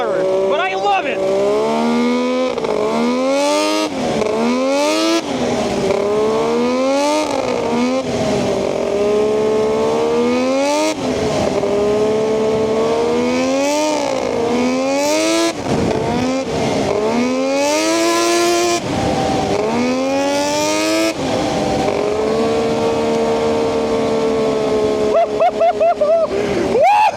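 A modified 140HP ATV engine and exhaust rev up repeatedly in quick, uneven bursts, loud and close. Each blip climbs and falls away, with a final sustained rev near the end.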